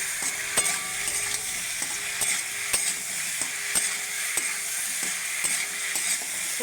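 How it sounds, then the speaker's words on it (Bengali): Fried cauliflower and potato are stir-fried with cooked spices in a pan, an even sizzle under repeated crisp clacks and scrapes of a spatula at a steady, close rhythm. "এবার সব একসাথে ভালো করে মশলার সাথে কষে নেব।"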